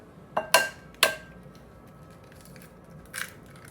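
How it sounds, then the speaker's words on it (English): Adams County eggs being cracked into a mixing bowl for pineapple bread: two sharp taps near the start, a third crack just after, then a softer clink later, close and clear in a quiet kitchen. "Let's get those eggs cracked apart."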